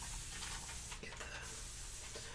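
A broad, steady hiss from a spray bottle spraying solution runs continuously, with a brief break in the middle, close and fairly loud.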